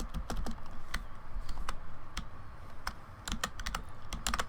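Rapid typing on a computer keyboard, close and clear, with bursts of keystrokes and short pauses and no talk over it.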